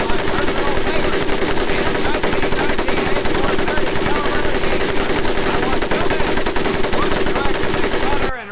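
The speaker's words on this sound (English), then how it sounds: "the 1984 30 caliber machine gun." Rapid, sustained bursts from a 1919 .30 caliber machine gun in a Medal of Honor Pacific Assault training level, loud and close, a dense rattling stream of shots running nearly unbroken for about eight seconds before cutting off.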